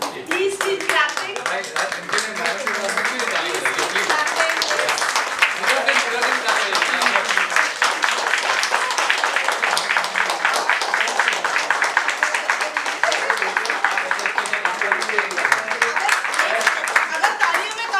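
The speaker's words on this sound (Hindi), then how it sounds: "Please keep clapping." An audience at a world record and book launch celebration claps and applauds steadily and loudly for the whole stretch, a dense continuous patter of many hands with faint voices underneath.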